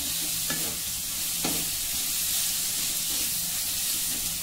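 Carrot and sliced capsicum stir-fry in a hot pan, giving a steady close sizzle with occasional soft stirring scrapes throughout, no voices.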